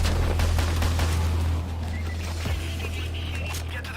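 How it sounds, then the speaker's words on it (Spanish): A shootout in the heist game PAYDAY: dense, sustained gunfire crackles steadily over a deep droning hum, with no clear break between shots. "O sea, están en una balacera."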